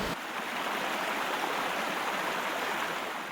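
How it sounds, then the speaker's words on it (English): Rushing river rapids on the Collingwood River make a steady, dense roar of white water, close and loud throughout with no pauses. "Scouting the rapids"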